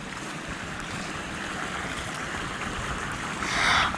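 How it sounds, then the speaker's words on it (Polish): A small waterfall gives a steady, close splashing rush, with a brief brighter surge of spray near the end and no talk. "O, a tu jest taki mały wodospad."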